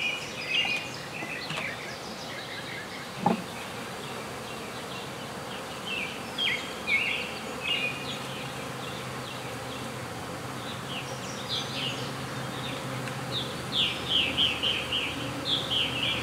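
Honey bees buzz around a hive outdoors, a dense steady drone with individual insects passing close, faint bird calls in the background and one brief knock.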